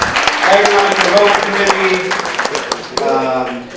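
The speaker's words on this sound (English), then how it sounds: "Yeah, give them a round of applause." Applause from an audience at a community meeting on a bond issue, a dense burst of clapping that fades over a few seconds while a voice talks over it.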